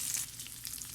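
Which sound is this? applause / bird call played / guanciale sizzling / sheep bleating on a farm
guanciale sizzling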